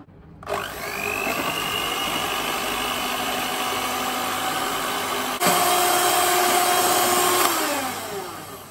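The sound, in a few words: electric beater mixing Boost pudding cream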